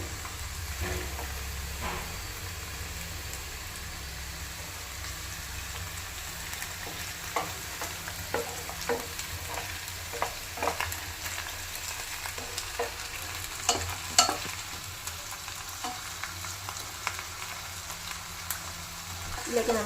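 Chicken pieces frying in a pan with sautéed onions for chicken kabsa, a soft continuous sizzle with scattered scraping stir strokes and clinks, fairly quiet and close.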